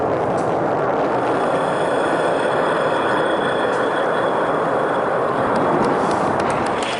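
A rocket's main engine roars in a steady, dense broadband rush while the vehicle hovers with its engine gimballing and cold gas thrusters holding roll, loud and unbroken throughout.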